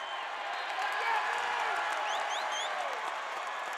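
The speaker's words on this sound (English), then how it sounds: "The crowd's getting loud in here." A packed basketball arena crowd swells into a steady, loud roar during a South Dakota State vs. North Dakota State Summit League Tournament semifinal, with a commentator talking over the noise.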